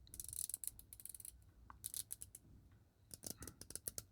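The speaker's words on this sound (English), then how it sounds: "The bezel action is a little clicky." A rotating bezel on a Dificiano Marlin dive watch with a 41.5 mm bezel and black enamel dial, turned in a quick series of faint, crisp ratcheting clicks that come in short bursts with brief pauses, close up and quiet.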